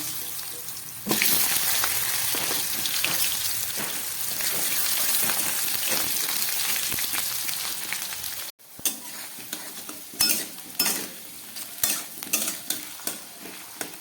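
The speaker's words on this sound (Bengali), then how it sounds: "এর মধ্যে আমি আলুগুলোকে খুব ভেজে নেব" Potatoes fry in hot oil in a wok with a loud, steady sizzle that cuts off abruptly, followed by irregular scraping and clattering stirring sounds over a quieter hiss.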